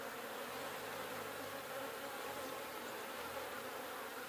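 A dense, continuous drone of many honeybees buzzing close by at an open horizontal hive, steady and loud throughout with no pauses.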